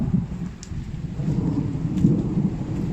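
Thunderstorm at an outdoor survival shelter, heavy rain pattering steadily with deep thunder rumbles and a few sharp cracks, continuous and fairly close, no voices.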